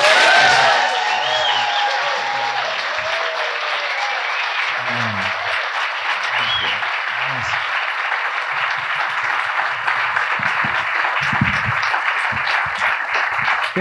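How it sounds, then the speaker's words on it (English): A large crowd at a live community night event applauds steadily and loudly throughout, dense clapping holding at an even level with scattered voices and a few cheers underneath. "can we give a thunderous round of applause for us?"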